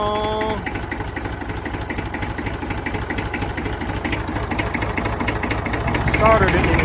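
A Ford Escape engine runs with a steady mid-pitched rumble after cranking, close and constant throughout, with a voice talking over it.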